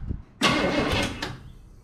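A 1961 Chevrolet Parkwood wagon's starter cranks the engine in one burst, a loud whirring grind lasting under a second after a brief click, then fading, close by with no talk.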